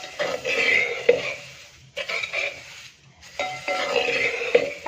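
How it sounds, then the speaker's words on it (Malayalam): Grated coconut is stirred in a hot bronze uruli, making close, rhythmic scraping and rustling sweeps in three bursts separated by short pauses, with a faint sizzle underneath. "ഉരുളിയുടെ ചൂട് മതി അപ്പം ഇളക്കി കൊടുത്തുകൊണ്ടിരിക്കണം കുറച്ച് സമയം"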